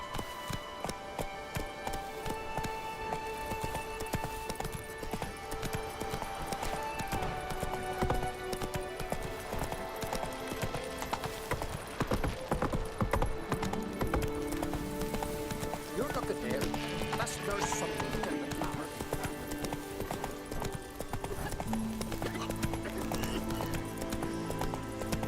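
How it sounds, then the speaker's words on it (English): Hoofbeats of the horse Roach galloping steadily in The Witcher 3: Wild Hunt Next-Gen, rhythmic clip-clop with occasional whinnies over game music and ambience, with someone talking over it. "Run, Roach"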